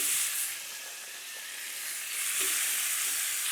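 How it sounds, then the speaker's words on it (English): Onion hitting a hot pan of browning bacon, giving a steady, bright sizzle and hiss that swells and eases slightly, close and alone. "So here goes the onion."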